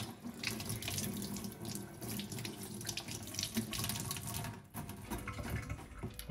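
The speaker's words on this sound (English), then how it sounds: "You just rinse it in running water." Running tap water streams steadily into a sink as a knife blade is rinsed, a continuous close splashing hiss with small shifts in flow and no talk.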